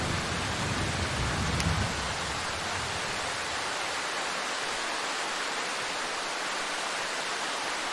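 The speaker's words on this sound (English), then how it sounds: "Anyway, with the rain, it's really not helping." Steady hiss of rain falling in the Darkwood game, a dense, even wash that holds at constant loudness for the whole stretch, with a slightly heavier low rumble at the start.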